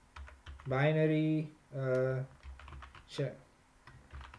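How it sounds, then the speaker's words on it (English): Keystrokes on a computer keyboard as a terminal command is typed, light clicks running beneath a voice, which carries on throughout. "If I type G Fortran minus E with a capital"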